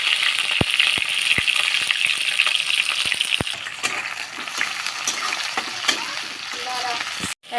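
Chopped onions hitting hot oil in a heated wok, a loud, steady sizzle with sharp clinks of a spoon against the pan early on, continuing close and alone.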